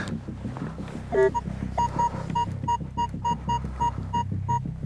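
Repeated electronic beeps pulse in a steady rhythm over a low throbbing hum, a metal detector signaling a copper target while coin hunting.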